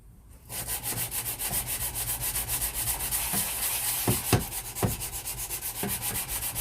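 Fiberglass on a VW T25 campervan dash and bumper being sanded by hand with 120 grit sandpaper, a close, continuous rhythmic scratching of back-and-forth strokes with a few sharper scrapes toward the end.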